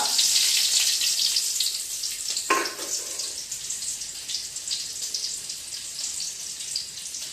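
Steady bright hiss of oil frying, loud and continuous, with a brief louder burst near the start as onions drop into the pan.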